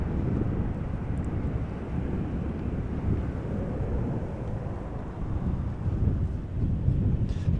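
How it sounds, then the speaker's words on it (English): A 21-year-old KLM Boeing 737-900 departs Amsterdam Schiphol, its engines a broad, steady low roar that holds loud and constant throughout, with a slight swell near the end and wind buffeting the microphone. "This is KLM flight 1117, Boeing 737-900 going to Stockholm"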